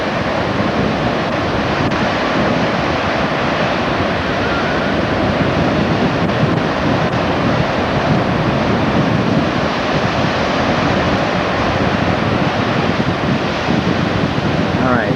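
Steady roar of ocean surf breaking on a windy North Carolina beach, constant and loud throughout, with wind buffeting the microphone and no clear talk.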